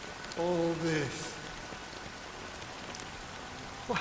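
Rain falls steadily in Honkai Star Rail, a soft continuous hiss of drops on surfaces, with a short tonal sound early on and no speech over it.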